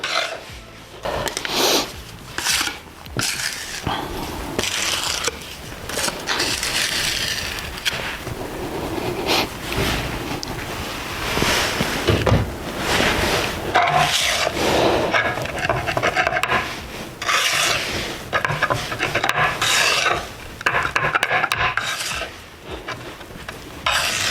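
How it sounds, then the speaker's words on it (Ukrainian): Thixotropic anchor adhesive being stirred and mixed, a steady close rasping, scraping rub with irregular bursts that continues alone for about twenty-four seconds. "Перемішуємо та клеїмо анкера."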